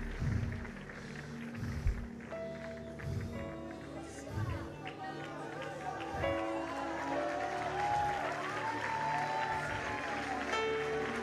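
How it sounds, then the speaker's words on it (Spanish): A congregation at an evening church convention service in Venezuela claps loudly and steadily in rhythm, with music and voices carrying over the clapping throughout. "Si lo cree, aplauda fuertemente."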